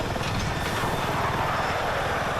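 A helicopter in Battlefield 6 roars steadily in flight, its dense rotor chop and engine rush filling the short stretch loudly and evenly with no voices.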